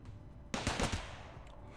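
Defensive turret in RimWorld opening fire, a sudden loud burst of several rapid shots followed by a fading rumble, with no talk over it.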